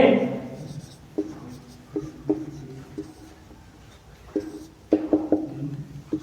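Pen or chalk writing by hand during a Hindi-language English grammar lesson on the present indefinite tense, heard as faint, close, irregular scratches and taps in short bursts over a quiet room.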